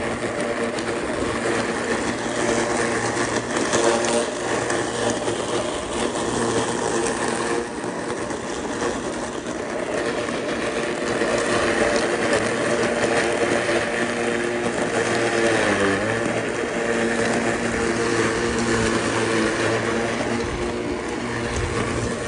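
Steady motorized lawn mower cutting tall grass in a front yard, a continuous loud engine drone with a slight dip in pitch midway and no pauses.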